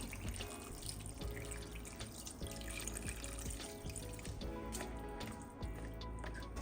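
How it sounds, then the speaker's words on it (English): Water pours and splashes into a cooking pot over chicken pieces being prepared for chicken and dumplings, a steady close running stream with small drips and squishy liquid sounds, no talking. "I'm gonna cover this up with water."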